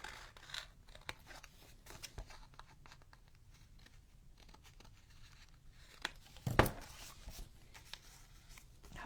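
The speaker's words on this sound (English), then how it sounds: "Just cut out a few of the stones so that I can get a curve" Scissors snip paper cobblestone pieces for a wintertime vignette in quick, soft, close-up cuts, mixed with light paper rustling and crinkling. Nobody speaks.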